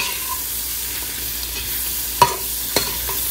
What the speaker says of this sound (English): we're gonna put our andouille sausage in the butter